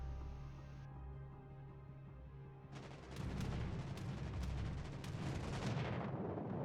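Heavy warship shell salvos boom out in a naval combat game, a steady low rumble giving way to a dense run of loud, overlapping gun blasts over about the last four seconds.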